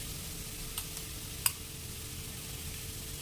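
Cabbage and capsicum sauté in a pan with a soft, steady sizzle, faint and close, broken by one small clink of a utensil and nothing spoken.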